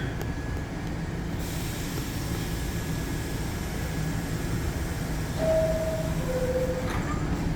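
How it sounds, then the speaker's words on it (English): An R68W New York City subway train pulls out of an elevated station platform, a steady broad rumble and rolling hum throughout with a brief tonal whine near the end. "Alright, this R68W train is gonna leave."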